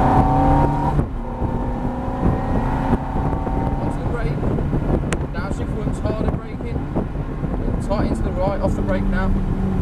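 A car engine accelerating and upshifting, a loud rising engine note that breaks at a gear change, then climbs again under wind buffeting while a man gives steady spoken instructions.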